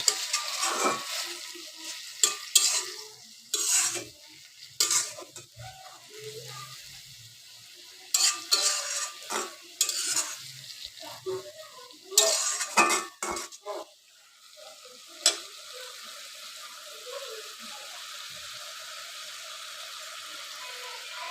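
Jute leaves cooking in a pan with added water, a soft steady sizzle broken by repeated scraping stirs of a utensil against the pan, close and clear, fading to simmering alone toward the end.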